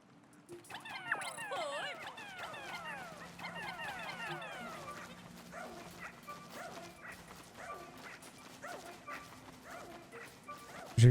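Dog barking and yipping in the video game Pikmin 4, a rapid run of small cartoonish barks and whimpers, then quieter intermittent yips, with soft game ambience underneath.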